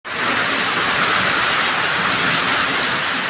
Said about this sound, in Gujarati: જોવો જોવો વરસાદ આવ્યો